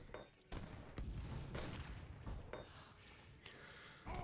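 Cannons fire in an Age of Empires III battle, a series of about six booming shots spaced irregularly across a few seconds, each a sharp thump with rumbling tail, fairly faint overall.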